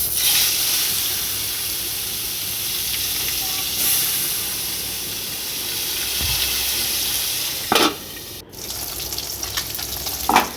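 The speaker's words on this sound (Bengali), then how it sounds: "নুন হলুদ মাখানো হয়ে গেছে, এবার ভেজে নেওয়ার পালা।" Tilapia rubbed with salt and turmeric fries in hot oil in a pan, a continuous close sizzle and hiss with a few clattering knocks near the end and no speech.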